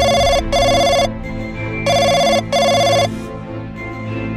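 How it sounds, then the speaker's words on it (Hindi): An old-style telephone bell rings in two double bursts, loud and close, with a quiet pause between each pair and no voices. "तभी इनका टेलीफोन बजने लगता है"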